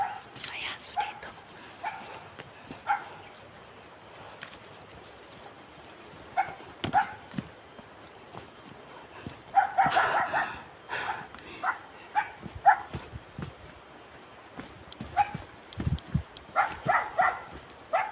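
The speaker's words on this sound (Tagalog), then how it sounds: "May aso dito." A dog barks intermittently outdoors near a large rock, short yips and barks scattered over background noise with occasional clopping sounds and some talk.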